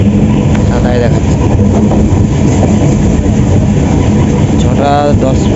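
A passenger train runs with a loud, steady rumble heard from inside the carriage, and people talk over it.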